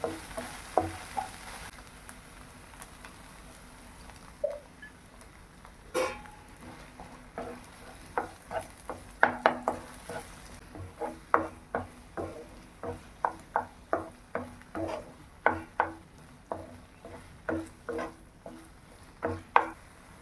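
Egg is stirred into goat brain podimas frying in a pan, heard as a sizzling bed broken by repeated sharp scraping and tapping strokes of a spatula, growing faster and more regular toward the end.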